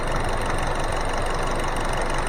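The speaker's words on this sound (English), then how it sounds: "Under the hood here is a 2-liter 4-cylinder engine." Hyundai Kona with a 2-liter 4-cylinder engine idling, a dense, even rumble with broad hiss, close and steady throughout, no voices.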